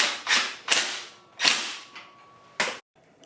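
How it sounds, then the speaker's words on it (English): A ratchet snugging a 21mm nut during a tube replacement on a NanRobot D4 2.0, in four or five short bursts of rapid clicking separated by brief pauses, close and crisp, with no talking. "this is a 21mm nut. Again, I don't have the torque spec, so we're just going to tighten it snug."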